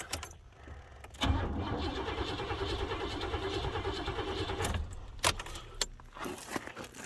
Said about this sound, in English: It just cranks forever and ever and ever.